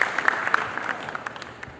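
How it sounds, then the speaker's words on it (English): Audience applause at the opening ceremony of GDG DevFest Tashkent 2022, scattered claps ringing through an indoor hall and thinning out toward the end, with no talk over it. "Your applause. Please welcome."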